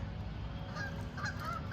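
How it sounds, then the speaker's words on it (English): A flock of geese honks at a distance outdoors on a rural New England property in fall, the calls faint and scattered over a steady low rumble of wind or background noise. "Whole like flock of geese, I think."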